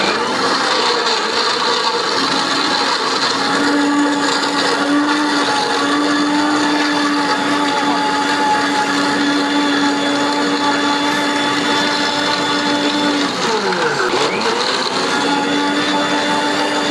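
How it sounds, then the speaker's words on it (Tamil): Electric blender grinding watermelon for juice, a loud steady whirring drone with a held motor pitch that cuts out and winds down near the end, no voices. "அரைக்கிறேன்."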